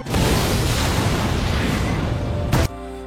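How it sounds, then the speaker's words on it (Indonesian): A loud, dense roaring blast that rumbles on for a few seconds, then cuts off sharply into a quieter, hollow tonal hum. "tiba-tiba saja tempat itu meledak"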